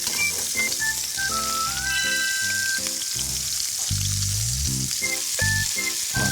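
Bone-in ribeye sizzles and fries in a hot pan, a steady close crackle running throughout, overlaid with prominent tonal music.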